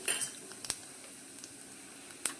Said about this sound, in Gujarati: જીરું આપણું તતડી ગયું છે